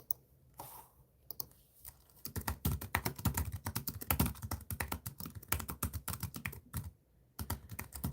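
Rapid keyboard typing, dense bursts of clicking keys close up with short pauses, fairly quiet throughout.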